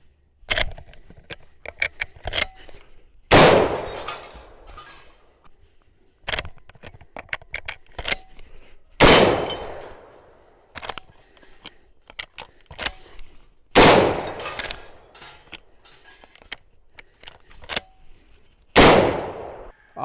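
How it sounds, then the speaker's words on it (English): A lever-action rifle fired in quick succession, four loud sharp shots spaced a few seconds apart, each followed by the clacking of the lever cycling and other metallic handling noises. "see how fast you can get on target with a lever action?"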